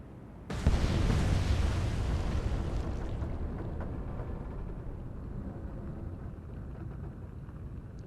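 Torpedoes strike destroyer escorts in the Atlantic Fleet naval game: a sudden, loud explosive blast, then a long, heavy rumbling roar that slowly fades but keeps going to the end.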